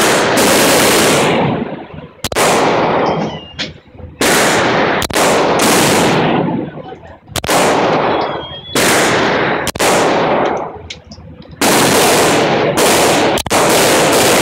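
Firearm gunshots at a shooting practice, a string of loud, sharp close-range reports repeating every one to two seconds, each with a short ringing decay, with no talk between them.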